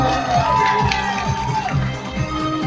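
Guests at a Hmong wedding cheer and shout in a loud, lively burst, whoops and voices rising over the crowd throughout the short stretch.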